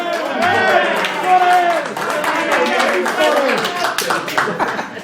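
Audience clapping for Sorel, a singer's representative, at a Paris concert event, steady crowd applause with cheering and voices mixed throughout.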